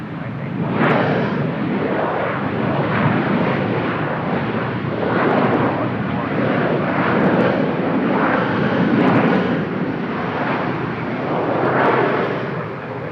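Engine roar from a China Eastern Airbus A320 narrow-body jet at Seoul Incheon Airport, a loud, steady broadband rumble that holds throughout with gentle surges in intensity, no talk over it.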